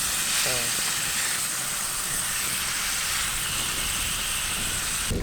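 Beef sizzling on a grill for a medium-rare cook, a loud, steady hiss and crackle of fat that holds evenly from start to finish, with a brief voice early on.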